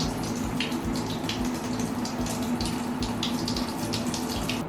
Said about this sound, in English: if I turn this up, the shower turns on. And then if you push it down, water will come out of the spout.